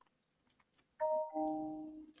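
A single bell-like chime rings out clearly and sustains for about a second before fading, following a few faint clicks and taps.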